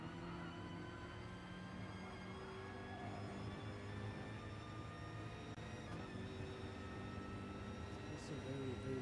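A video game racing car engine at Autodromo de Interlagos whines steadily at high pitch throughout, a continuous sustained drone with shifting tones, moderately loud and uninterrupted.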